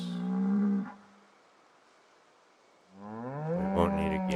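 Two loud, drawn-out cow moos from Project Zomboid, one low bellow at the start and a longer, rising moo after a quiet gap, heard on their own with no talking.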